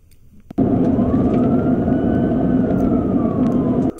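A loud, steady police siren suddenly starts and wails continuously, rising and falling slightly in pitch, then cuts off abruptly near the end.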